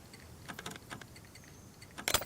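Clacking keystrokes on a computer keyboard during a SCUM game session, a few scattered taps then a quick louder flurry near the end, close and alone with no talk.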